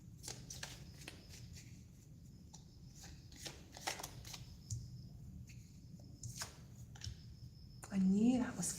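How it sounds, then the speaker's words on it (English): Tarot cards are shuffled in a series of quick, soft riffling bursts at close range, quiet overall with brief pauses between shuffles and a louder handling sound near the end. "Let me know while I'm shuffling."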